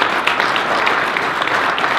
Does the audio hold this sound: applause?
yes